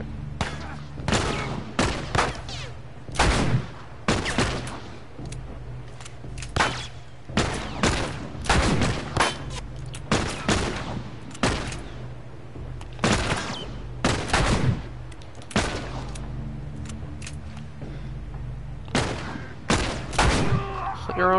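Gunfire in The Last of Us video game: a rapid series of loud, sharp shots, some in quick clusters, repeating throughout over a low game background hum.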